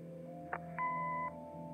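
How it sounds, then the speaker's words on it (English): An answering machine in the video game Kathy Rain gives a single electronic beep held for about half a second, preceded by a brief click, over a steady low background hum. "Leave a message after the beep."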